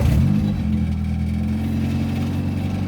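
Turbocharged F23 Honda Accord engine starting and settling into a loud, steady idle, a deep droning rumble close by with no voices.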